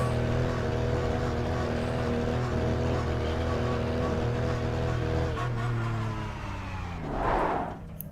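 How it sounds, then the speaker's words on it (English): In iRacing, a Porsche GT3 Cup race car engine drones loudly at high revs, buzzing steadily as it bounces off the rev limiter, then briefly dips and surges near the end. "the rev limiter sounds a lot different as well"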